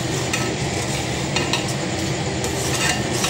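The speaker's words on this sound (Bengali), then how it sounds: "নেড়ে দিচ্ছি একটুখানি।" Khichuri is stirred in a pot after ghee and fried spices are added, with the gas turned off: a close, continuous scraping and stirring with soft wet clatter. No voices are heard.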